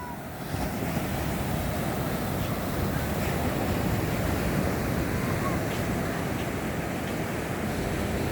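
Steady roar of ocean surf at Carmel beach at sunset, a broad continuous wash of breaking waves close by, mixed with wind buffeting the microphone.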